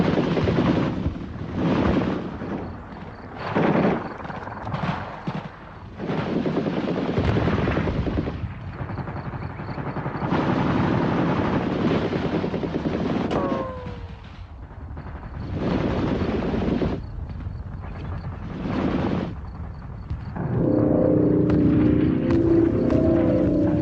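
Soviet Mi-24 Hind attack helicopters over Afghanistan fire in repeated loud bursts of heavy gunfire and booming impacts, separated by short pauses, with a rotor-like drone between salvos.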